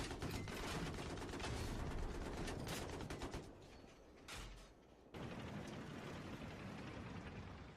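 Canister shell cannon fire in a video game, heard as a rapid, loud run of mechanical clacks and gunfire bursts with a short lull near the middle before the clatter resumes.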